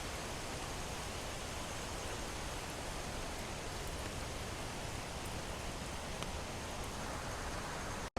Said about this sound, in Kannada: ಇವಾಗ ನೋಡ್ಬೋದು ಮಳೆ ಬರ್ತಾ ಇದೆ